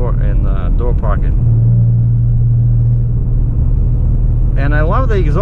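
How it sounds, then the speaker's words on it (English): A 2017 Ford Mustang's exhaust rumbling while driving, a steady low drone that stays constant under someone talking at the start and end of the stretch. "And I love the exhaust."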